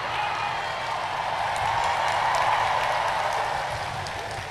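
A large crowd of teachers at a rally in Roxas applauds steadily, a dense, continuous wash of clapping that swells slightly in the middle and holds without pause.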